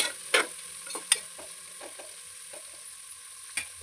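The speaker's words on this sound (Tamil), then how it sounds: "கருவேப்பிலை தழை, வெங்காயம் இதெல்லாம் போட்டு நல்லா வதக்கிக்கலாம்." Onions, green chili and curry leaves sautéing in a pan for ghee rice give a steady soft sizzle, broken by a few sharp scrapes and clinks of a stirring spoon, with no voices.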